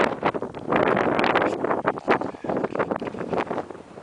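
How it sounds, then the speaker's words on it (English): Strong wind buffets the microphone on a steep hillside in the Brecon Beacons, with loud, gusty roaring and rumbling that surges and drops throughout. "it's a bit windy up here"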